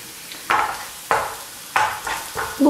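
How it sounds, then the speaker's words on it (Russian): Onions frying in a pan, with a soft background sizzle broken by four or five bursts of stirring as a utensil scrapes through them, no talk. "будем следить за тем, чтобы лук у нас не сгорел, а только стал румяненьким немножко"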